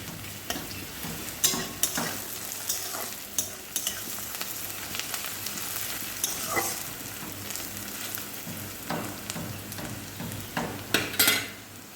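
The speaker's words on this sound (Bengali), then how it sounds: "আর শাক ভাজাটা আজকে একটুখানি এরকম রসুন ফোড়ন দিয়ে বানাবো" Greens being fried in a pan with crushed garlic tempering, a steady sizzle punctuated by sharp scrapes and clinks of a spatula stirring against the pan, close and fairly loud, with no voices.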